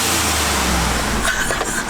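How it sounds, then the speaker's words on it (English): Ford Bronco engine revving loud and close, a steady roar that rises with a sharp airy hiss near the end as the blow-off valve vents, with faint voices in the background. "that new blow-off valve is my new favorite thing"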